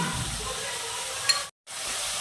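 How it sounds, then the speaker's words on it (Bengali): Chopped tomato fries with onion in a pan, a soft, steady sizzle with a brief clink near the middle, then a sudden moment of silence before the hiss resumes. "এবার টমেটো কুচি দিয়ে দিলাম, এটাও অল্প ভেজে নিব পেঁয়াজের সাথে"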